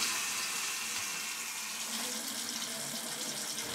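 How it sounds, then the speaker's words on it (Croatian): Tap water runs steadily through a newly fitted aerator that mixes water and air, producing a continuous close hiss of aerated flow with no talk. "Sad postavljamo perlator koji je zapravo uređaj koji miješa vodu i zrak u numeru 50-50"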